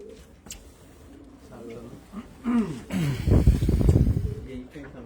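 Racing pigeons in a loft give soft, throaty coos that swell in short bursts, mixed with rustling and shuffling nearby.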